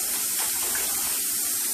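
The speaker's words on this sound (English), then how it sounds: "let's put more water in" Hot water pouring to soak tamale husks, a continuous close splashing gush that holds steady throughout.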